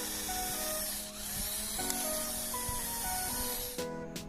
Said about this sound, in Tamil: அதே மாதிரி 2mm ட்ரில் பிட்டை வச்சு 4 பக்கமும் ஓட்டை போட்டு எடுத்துக்கலாம்.